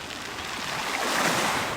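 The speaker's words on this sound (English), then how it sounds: "This shore is water-smoothed stones, tumbling with a tinkly sound as the waves lift them and gently set them back down." Waves washing over a shore of water-smoothed stones on Lake Superior, a steady broad rush of surf with faint tinkling stone movement, close and continuous, with no voices.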